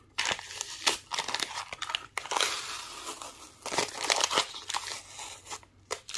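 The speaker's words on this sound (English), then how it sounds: "so now let's take the tape off the back" Adhesive tape peeled off the back of an acrylic restaurant bill clipboard, giving close, loud crinkling and crackling in uneven bursts with short pauses, no voices.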